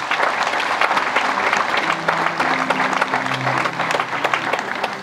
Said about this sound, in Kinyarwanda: mubyishimire mukoma amashyi